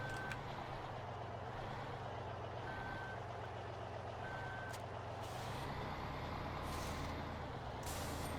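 A truck and trailer in the video game Farming Simulator 15, with a steady low engine idle, intermittent reversing beeps and a hissing air-brake release near the end.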